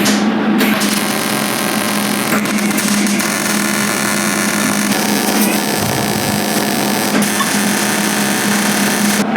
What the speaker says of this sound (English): Sanding it.